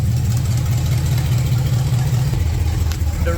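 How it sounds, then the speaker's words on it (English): A car engine idles steadily after an engine swap into a Datsun, a continuous low rumble running unbroken and fairly loud with no talk over it. "This has never idled before since we put the engine in"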